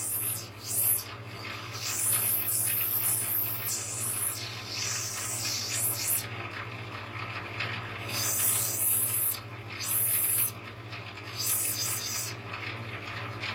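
Hand sanding along an edge with sandpaper: steady scratchy rubbing strokes, fairly close, with bursts of hiss and a constant low hum underneath, no talk.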